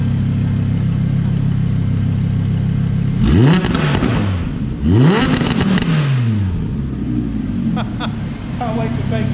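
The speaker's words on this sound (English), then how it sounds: "Quicksilver exhaust with some titanium muffler, and this just sounds absolutely ludicrous" An Audi R8 V10 RWS fitted with a Quicksilver exhaust and titanium muffler revs up twice at close range, each rising roar falling back to a steady idle, with a voice nearby.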